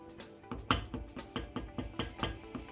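A spoon stirs boiling rice water in a pot, knocking against the pot in a regular rhythm of about eight clear taps, close by and with no talking.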